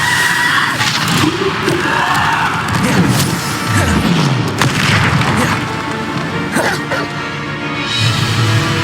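Bombarda blasting spells in the Hogwarts Legacy video game burst repeatedly through a busy battle mix, booming impacts and crashes over swirling magical effects and background clamor, with a voice heard speaking at points.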